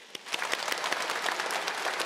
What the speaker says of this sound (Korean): 결단하는 우리 옆에 계신 분들을 위하여서도 축복의 박수 보내드리겠습니다